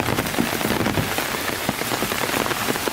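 Steady rain from the tail end of Hurricane Florence in the Carolinas pours onto hard surfaces and an umbrella overhead, a dense, continuous patter with scattered heavier drops, close and constant, with no voices.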